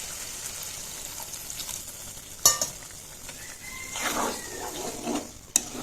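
Chicken liver cooking in a pan after liquid is added: a soft, quiet sizzle with scraping stirs and a couple of sharp utensil clinks against the pan.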